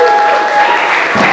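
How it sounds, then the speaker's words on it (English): Late-night comedy show audience applauding, a dense steady wash of clapping filling the whole short moment without a break. "Clap it up for yourselves."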